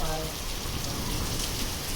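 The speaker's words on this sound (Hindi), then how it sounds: "बारिश होने लगी, बर्फ गिर रहा है।" Steady rain falling together with hail, a dense continuous patter and hiss on surfaces, fairly close and even in loudness throughout, with no clear voices.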